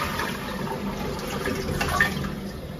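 Water rushes and gurgles steadily through a Kohler toilet after its flush button is pushed, a continuous close-up draining swirl that swells slightly toward the end, with no talking.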